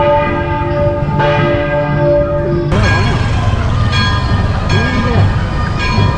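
A Hindu temple bell rings at a Murugan temple in Selvasanidhi, loud and close, with several clanging strikes at irregular intervals that ring on over a busy background of murmuring voices.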